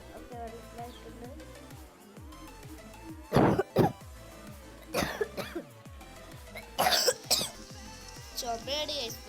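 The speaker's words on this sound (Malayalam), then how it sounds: "ചുമയാണ് ഭയങ്കര ചുമയാണ്" Several harsh coughing bursts in short clusters, fairly close, over a low steady hum.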